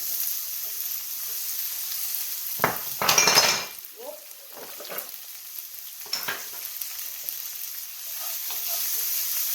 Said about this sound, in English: Add some onion. I'm going to add a little bit more oil because I see it's dried.